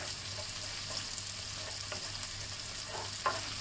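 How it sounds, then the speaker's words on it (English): Chopped garlic and the white part of spring onion pan frying, giving a steady soft sizzle with faint scraping stirs and one sharper clink near the end, no voices. "so let's pan fry"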